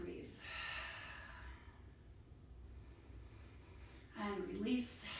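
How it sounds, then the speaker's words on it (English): Deep, slow breathing during a yoga stretch: a long audible inhale, a quiet pause, then a fuller breathy exhale, close and soft. "And breathe."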